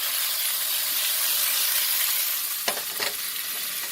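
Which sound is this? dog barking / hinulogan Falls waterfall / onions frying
onions frying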